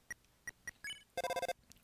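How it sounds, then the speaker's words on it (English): In Deltarune, a landline phone rings with short electronic beeps: a few spaced tones, then a rapid trill of chirps, all faint and with no voices. "The phone is ringing, but you can't get it."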